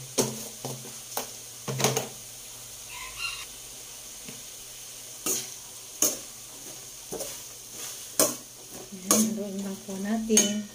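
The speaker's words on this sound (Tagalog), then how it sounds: "Haluin lang po natin." Salted sautéed banana heart being stirred in a pan, with irregular metal scrapes and clinks of a utensil against the pan over a faint, quiet sizzle.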